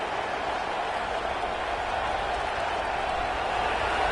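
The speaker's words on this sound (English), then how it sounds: "this crowd coming to life here, trying to help the defense get a stop" A football stadium crowd at Oklahoma vs Michigan roars steadily for the defense, a broad sustained wash of cheering that holds at an even level throughout.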